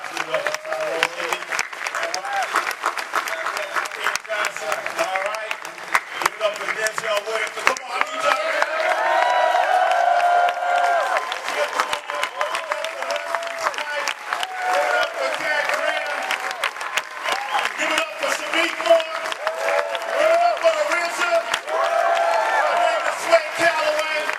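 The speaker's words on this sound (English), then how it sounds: "Give yourselves a round of applause." At a San Diego Comic-Con panel for the film Cut Throat City, a large hall audience breaks into sustained applause with scattered whoops and cheers, loud and dense for over twenty seconds while a voice talks over parts of it.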